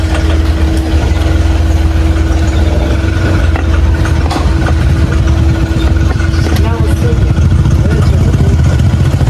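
A Royal Enfield Continental GT650 engine with a fault after a spark plug was fitted without setting the gap, idling loud and close with a steady drone, a constant tone and some clatter.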